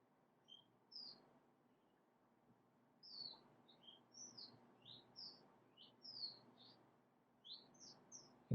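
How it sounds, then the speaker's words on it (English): A lively bird sings outdoors, distant and fairly faint, with bright repeated chirps and short warbled phrases in bursts over steady low background hum, busiest in the second half. "You can hear a very animated bird outside."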